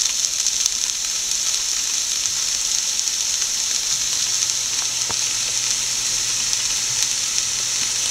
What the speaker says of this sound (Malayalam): കുറച്ച് കറിവേപ്പില, നമുക്ക് കുറച്ച് ചീര ഇല അരിഞ്ഞതിട്ട് കൊടുക്കാം.